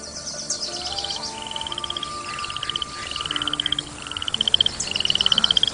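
Rapid trilling chirps repeat in quick pulsed bursts over a calm outdoor background, bright and fairly close, joined by softer calls.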